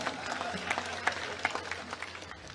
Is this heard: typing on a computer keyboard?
no